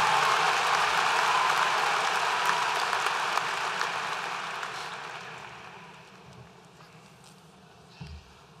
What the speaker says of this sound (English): Let's give our talented musicians a round of applause